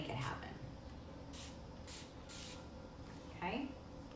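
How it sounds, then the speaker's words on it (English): Water spraying onto a dresser during washing, several distinct hissing bursts in a steady rhythm, close and moderately loud, with a voice talking underneath. "You just spray your water."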